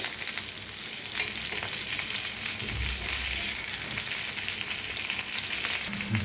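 Fish fillets frying in a pan over low gas, a steady close sizzle with occasional stirring clatter, no voices.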